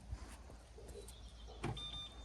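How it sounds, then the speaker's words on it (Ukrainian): A Renault Megane 4 locks with keyless entry, making a soft mechanical clunk, followed by a thin electronic chirp and a faint whirr, heard close by outdoors. "Все, автомобіль закрився."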